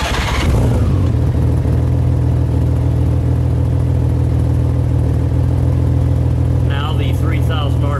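Honda Goldwing GL1800 with an adjustable exhaust and its half-inch plugs removed, idling with a steady, loud low rumble throughout; a brief noise at the start and a faint higher whine near the end.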